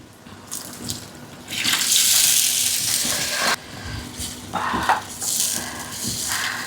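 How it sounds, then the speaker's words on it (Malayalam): A cup of water is poured into a thin coconut chutney, a steady splashing gush that rises, dips and surges again for several seconds at close range. "1 കപ്പ് വെള്ളം കൂടി ചേർത്ത്"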